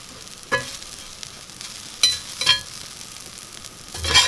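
Hash browns made from leftover baked potatoes fry in a pan with a low, steady sizzle, broken by a few sharp scraping and stirring clatters.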